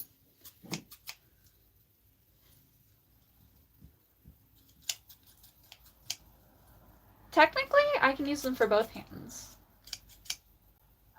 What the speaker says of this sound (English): I have another pair of kitchen scissors.